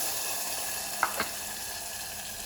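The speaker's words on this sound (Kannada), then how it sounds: "ಒಗ್ಗರಣೆ ಸಿಡಿತಿದ್ದಾಗೆ ರುಬ್ಬಿಟ್ಕೊಂಡಿರುವಂತಹ ಈ ಮಿಶ್ರಣವನ್ನು ಸೇರಿಸ್ಕೊಳ್ತೇನೆ" Ground coconut mixture going into a sizzling tempering for coconut rasam, a steady close frying hiss with a couple of brief sharp pops and clatters.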